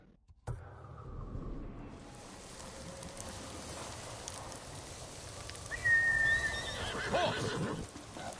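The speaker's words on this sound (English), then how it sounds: "Horse!" A horse whinnies with a rising, wavering neigh over an ambient game soundscape with faint hoof clops and background tones.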